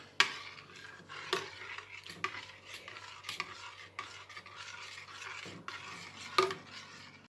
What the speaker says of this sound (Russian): Мешаем постоянно.